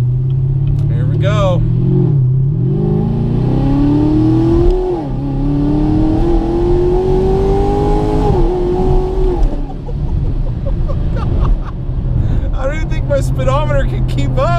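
A car fitted with a ProCharger P-1SC-1 supercharger pulls hard through the gears, its engine note climbing in long rising sweeps broken by brief dips at each shift, loud and close from inside the cabin while people talk excitedly.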